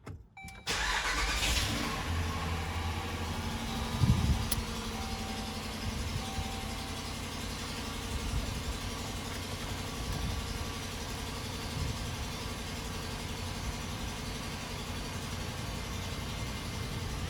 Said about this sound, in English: now we're going to start it up and turn our heat on